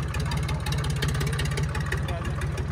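A tractor engine chugs steadily nearby with a rapid, even diesel pulse during a tractor tug-of-war event, loud and continuous throughout.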